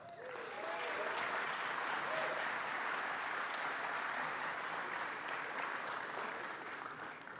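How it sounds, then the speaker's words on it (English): Sustained applause from an audience at a beer awards ceremony, steady clapping filling the whole stretch without pause, at moderate distance. "give yourself an applause"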